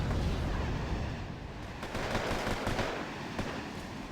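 Sapper flamethrowers firing in Wargame Airland Battle, a dense roaring rush of noise with crackling bursts and rumbling low end, continuous and loud for a few seconds with no voices.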